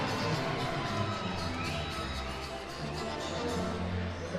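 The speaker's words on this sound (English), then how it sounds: "Massive round for Miranda Reyes, much to the delight of the El Paso crowd" A boxing crowd in El Paso cheers between rounds, a dense, steady roar of many voices heard from within the arena.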